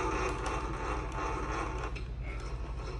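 The head-raising mechanism on a K.O. Lee BA960 tool and cutter grinder, a 230V three-phase machine, runs with a steady close mechanical whir and gear-like ratcheting throughout, with no talk.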